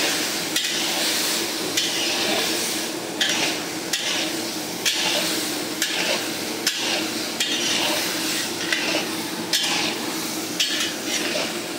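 Masoor lentils and rice being stirred and fried in a pan, a steady close scraping and clatter of a spoon against metal with rhythmic knocks over a constant frying hiss, no talk.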